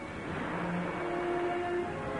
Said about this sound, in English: That's the car that escaped us last night.